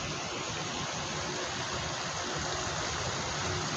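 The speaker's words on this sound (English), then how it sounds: "that water pressure machine making a lot of noise" Steady broadband rushing of a water pressure machine running outdoors at a 9/11 memorial garden in Market Square, a constant, fairly loud wash of noise like a stream with no breaks.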